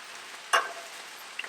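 Vegetables fry on a Blackstone griddle set to high heat, giving a faint steady sizzle with one brief louder scrape or hiss near the start and a couple of small ticks later.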